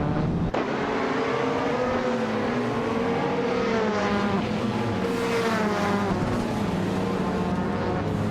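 Race cars in a racing video game roar past and overtake one another, with several layered engine notes revving and shifting pitch continuously, loud and close throughout.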